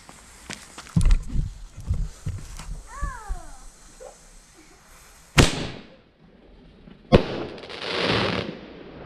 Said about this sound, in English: Now for another one of these shot tubes, which is called Earth.